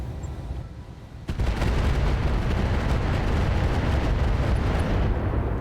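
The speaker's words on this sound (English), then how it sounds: "We are definitely going to fire AX." Autocannon fire in the mech strategy game RogueTech, a BattleTech mod: after a quieter moment a loud, dense barrage of heavy booming shots erupts and continues as a sustained roar without speech.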